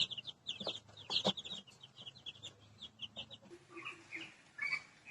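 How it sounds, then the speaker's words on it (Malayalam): Fifteen-day-old Gramapriya and native country chicks peep and chirp in a rapid, irregular chorus close by, with sharper bursts standing out and no talking. "ഇതിനകത്ത് ഗ്രാമപ്രിയ കോഴികളും നാടൻ കോഴികളും ഉണ്ട് ഇതിന് പതിനഞ്ച് ദിവസം പ്രായമുണ്ട്"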